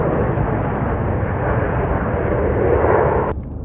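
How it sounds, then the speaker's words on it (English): A propeller or jet airplane drones overhead, a loud, steady broadband roar that swells slightly before cutting off abruptly near the end. "there's 2 more planes coming"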